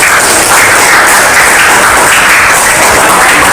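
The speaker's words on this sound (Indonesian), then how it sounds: "Kita berikan aplaus untuk kelompok 4." A classroom audience applauds a group after its presentation, a loud, dense burst of many hands clapping together that stays steady and close throughout, with no talking over it.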